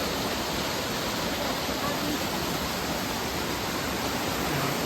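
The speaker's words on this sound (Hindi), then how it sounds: "बट एक्चुअल वाटरफॉल ये है" A mountain waterfall in Trithan Valley, Kullu, Himachal Pradesh thunders in a dense, unbroken rush of falling water, loud and close, with no other sounds standing out.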